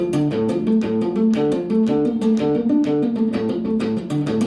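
A guitar plays a fast, repeating note pattern from a solo, with quick even picked notes in a steady rhythm, clear and close with no talking.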